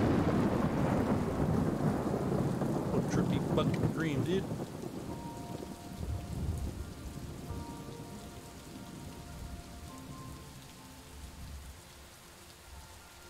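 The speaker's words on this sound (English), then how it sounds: "Oh, it's raining." Steady rain pours and patters across a surface in the video game Superliminal, with a low thunder rumble under it, loud at first and easing off; a voice speaks briefly over the storm.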